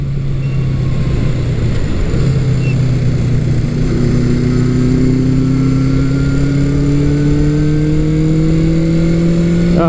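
A vintage 550cc motorcycle engine revs steadily, its pitch climbing gradually as it accelerates, loud and close throughout with a brief dip early on.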